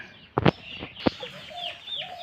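Pet birds kept for sale give a couple of sharp clucking calls followed by softer chirps and rustling nearby, with quiet background noise between the calls.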